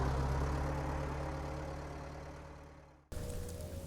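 A farm tractor with a front loader runs with a steady low engine drone that slowly falls away, then cuts to a fresh burst of engine noise, with no talk.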